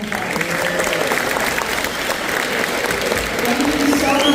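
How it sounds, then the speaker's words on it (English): An audience applauds steadily at a school band awards concert, with a dense, sustained clapping that fills the room throughout, alongside some crowd noise. "So I want you to give them a big round of applause."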